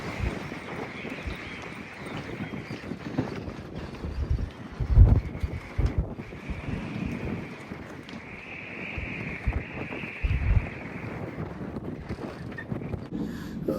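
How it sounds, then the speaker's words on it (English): Wind gusting steadily across a sailboat moored on a squally late-winter day, a broad, rushing roar with louder buffets, heard alone without talk. "It's pretty windy out there."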